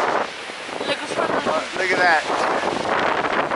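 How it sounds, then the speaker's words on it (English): Strong wind roars and buffets the microphone steadily while a person briefly speaks over it. "It's really windy right now."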